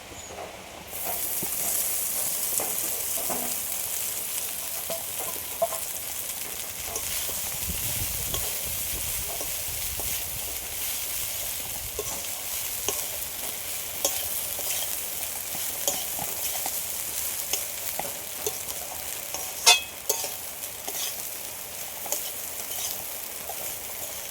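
Flattened rice (chira) stirred and fried in a pan for a mango-flavoured chira pulao, a steady close sizzle with scraping stir strokes and occasional clinks, no talking.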